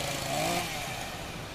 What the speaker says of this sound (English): He got a chainsaw.